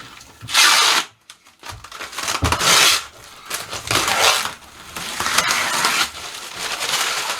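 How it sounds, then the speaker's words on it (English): Protective plastic film is peeled off new kitchen cabinets in several loud crackling, ripping pulls, separated by brief pauses and rustling handling. "Peeling this nasty plastic off."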